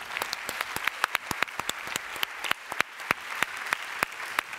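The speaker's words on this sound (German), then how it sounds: "jetzt bitte ich Sie erstmal um einen recht herzlichen Applaus für Stefan Tepka." A seated audience at a German science talk on antibiotic resistance claps for a farmer and association board member joining the panel, a steady, moderately close patter of many hands with sharper individual claps standing out.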